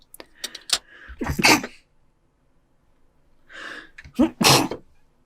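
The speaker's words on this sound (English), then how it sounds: "had to sneeze, sorry for that." A person sneezes twice, each time a sharp gasping inhale followed by a loud, close burst, separated by a few seconds of quiet.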